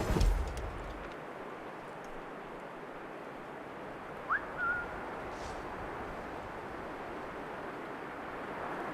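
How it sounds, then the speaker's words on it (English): A character in the video game Assassin's Creed Rogue gives a short two-part whistle, a quick rising note and then a brief held tone, heard faintly over a constant rushing ambient bed with a soft thump at the start. "I didn't press it and he whistled for some reason."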